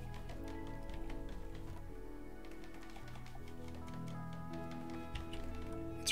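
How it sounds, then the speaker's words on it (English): Steady soft rain patters in the colony-building game RimWorld, a continuous quiet hiss of scattered drop ticks layered over sustained background music tones, with no voices. "raining already, man."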